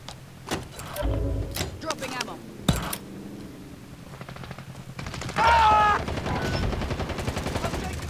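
Video game gunfire, sharp shots and short automatic bursts, some close and loud, among vehicle and door noises and game voice lines, with a louder burst of rapid fire near the end.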